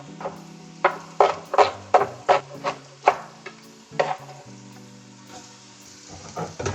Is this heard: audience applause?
no